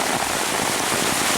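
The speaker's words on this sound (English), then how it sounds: "the past 2 days now we've gotten a ton of rain. As you can see, it's just pouring down rain here." Heavy summer rain pouring down steadily over a vegetable garden, a dense unbroken hiss of countless drops hitting plants and ground, loud and close with no pauses.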